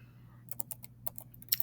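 A few quick taps on a computer keyboard, a short burst of close, soft clicks over a low steady hum.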